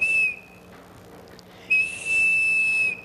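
A shrill, steady whistled tone sounds briefly, pauses, then returns for a longer sustained note, near and clear over a quiet background.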